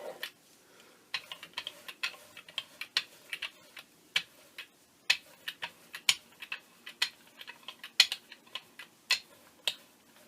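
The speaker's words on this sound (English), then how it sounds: "Also a very noisy brayer because that roller part just keeps jumping up and down." Irregular light clicking and rattling taps, close by, as a noisy brayer roller bounces and knocks against a gel printing plate, with quiet gaps between bursts.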